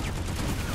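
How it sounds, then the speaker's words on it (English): Gunfire in the video game PlanetSide 2, a dense rattling burst of rapid shots filling the short moment, loud and close with no talk. "I'm getting shot at."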